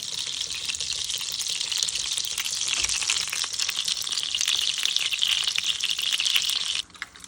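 Butter sizzles hard in a pan for lentil bulgur pilaf, a loud, dense, crackling hiss that holds steady for several seconds and then cuts off abruptly near the end.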